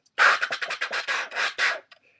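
A beatboxer's mouth-made scratching noise, a rapid run of about ten choppy, raspy bursts imitating a DJ record scratch, loud and close with no talking.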